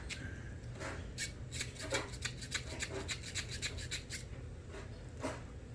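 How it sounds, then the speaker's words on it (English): Scrubbing out the inside of a Pax 3 vaporizer during cleaning, quiet close-up brushing with quick scratchy strokes in an irregular rhythm. "Now scrub out the inside a little bit."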